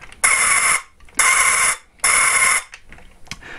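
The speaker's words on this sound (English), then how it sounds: "what I assume is supposed to be an explosion and an awful screeching noise" Three loud, harsh electronic screeches from a vintage Buck Rogers Laserscope toy laser gun, meant as an explosion, each lasting about half a second with short gaps, followed by faint clicks.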